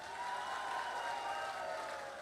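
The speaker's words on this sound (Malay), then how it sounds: "Satu tepukan gemuruh untuk beliau." An audience at a public gathering in Kelantan welcoming Malaysia's Prime Minister breaks into applause, a steady, fairly distant wash of clapping with murmuring voices underneath.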